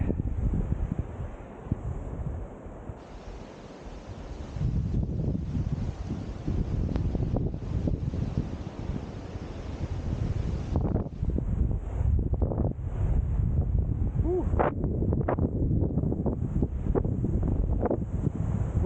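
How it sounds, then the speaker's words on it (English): Heavy wind buffets the microphone in continuous rumbling gusts at a cold coastal lookout, loud and low, growing rougher in the second half, with no voices. "Windy and cold."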